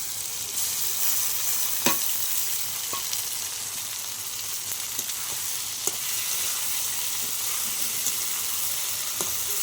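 A ground paste of cumin, ginger and chili frying in a pan with softened tomatoes, a loud, steady sizzle broken by sharp scraping clicks of stirring at irregular intervals, close up and without speech.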